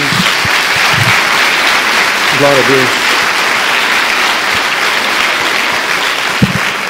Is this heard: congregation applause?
yes